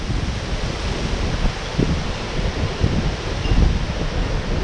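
Strong gusting wind ahead of a storm, a steady broadband roar buffeting the microphone with low rumbling surges and no voices.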